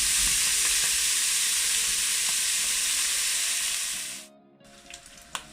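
Sausages for rougail saucisse fry in a pot with a loud, dense, continuous sizzle that fades out abruptly near the end, followed by a few faint clicks.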